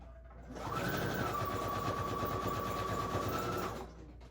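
A sewing machine runs a zigzag stitch over lace and buttons in one steady burst of about three seconds, a close, even mechanical whir with rapid rhythmic ticking that starts and stops cleanly.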